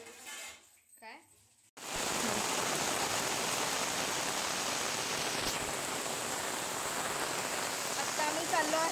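Heavy rain in Konkan during the Ganpati festival season bursts in after a quieter opening with faint sounds, then pours as a loud, steady, dense hiss that continues to the end.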